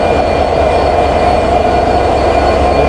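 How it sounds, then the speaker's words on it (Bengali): The Madhumati Express running from Rajshahi behind an American-built diesel locomotive gives a loud, continuous, steady roar of engine and rolling wheels, heard up close with no voices. "এই হলো আমাদের মধুমতি এক্সপ্রেসের লোকোমোটিভ"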